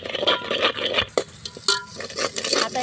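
A spoon stirs chili powder, turmeric and salt through a pan, giving a continuous run of scraping and clinks against the metal over a soft sizzle, close and fairly loud.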